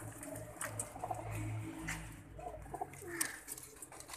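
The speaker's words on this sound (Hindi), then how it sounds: "जल्लो बॉर्डर के मोर वाले कबूतर" Fancy peacock-type pigeons from the Jallo border area coo softly in low, rolling calls, repeated and slightly overlapping against a faint background of chirps and rustle.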